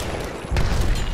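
A frag grenade blows up in Apex Legends, a sudden loud low boom halfway through that rolls into a rumbling tail over steady background game noise.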